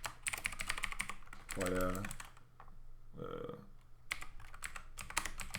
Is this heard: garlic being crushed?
no